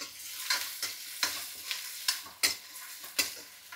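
Onions, green chillies and curry leaves with a little salt fry in a pan under a soft, steady sizzle, broken by about eight quick scraping stirs at a roughly even pace.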